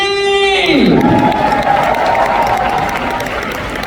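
Large crowd at a business recognition event applauding and cheering as a music act is introduced, dense loud clapping with scattered shouts rising out of a fading musical tone and continuing steadily.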